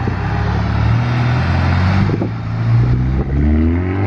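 A VW MK6 GTI out on a test drive, its engine a steady low drone with some rumble and faint clatter, loud and close, no talk.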